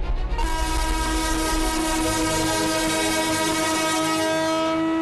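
A passenger train on the newly opened Beed to Ahilyanagar line sounds a long, sustained horn close by while rolling steadily, its rumble continuous beneath the loud tonal blast.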